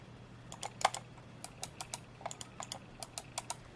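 Primary buttons on a Logitech MX Master 3 and a Razer Pro Click mouse are pressed in turn: a quick series of sharp, close clicks in an irregular rhythm, some louder than others, with no voice.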